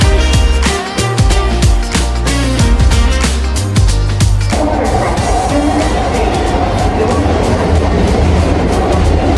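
A Canada Line train in Vancouver runs loud and close, first with rhythmic rattling clacks from the wheels and then a steady broad roar of motion that fills the rest of the ride.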